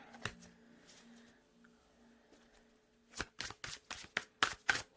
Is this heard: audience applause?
no